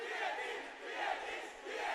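At a VALORANT Challengers South Asia esports finale, a large arena crowd roars and cheers in a continuous, swelling wash of voices that rises and falls over two seconds.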